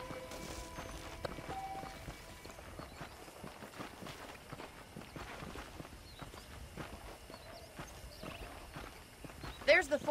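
Horse hooves clip-clop steadily in Red Dead Redemption with a walking rhythm, fairly close, under ongoing talk.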